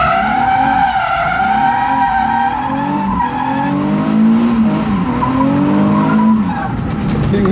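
A car drifting around a cone-marked training course at a drift academy, tires squealing in long wavering tones over a loud, steady engine drone, close up and continuous.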